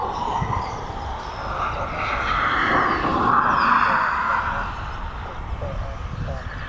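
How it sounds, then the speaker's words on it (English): A training aircraft flies a touch-and-go circuit at East Midlands Airport, its engine a broad, steady roar that swells to a peak midway and then eases off, with voices talking over it. "It looks like we're going to be getting another circuit, another touch and go."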